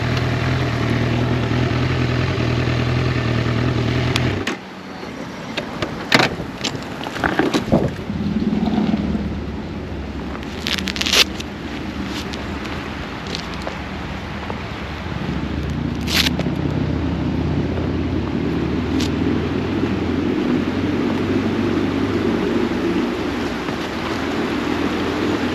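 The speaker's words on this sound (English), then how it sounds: "I'm not scared riding on this gravel." Motorcycle ridden over gravel, a steady engine drone with wind rush, crunching and knocking bursts early on, then a continuous close-up rumble.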